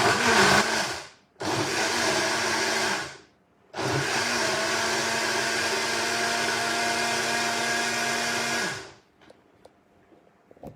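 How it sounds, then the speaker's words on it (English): A hand blender whirs through smoothie ingredients that include avocado. It runs in three loud, steady bursts separated by short pauses, then cuts off into quiet handling noises. "So we can use any blender. I have this hand blender I'm going to use."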